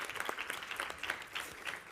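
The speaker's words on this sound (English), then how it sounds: "a round of applause for our panel" Audience applause for a conference panel at an EU agri-food session, a quiet, steady patter of clapping heard from a distance for about two seconds.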